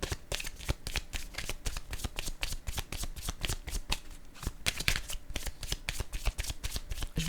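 Tarot cards are shuffled by hand, the quick riffling snaps repeating in a brisk, close rhythm throughout.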